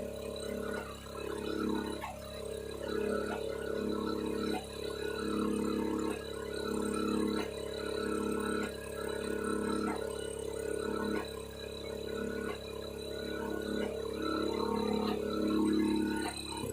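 An old John Deere tractor engine running, a steady mid-pitched mechanical drone with a pulsing, slightly uneven beat, close and continuous throughout.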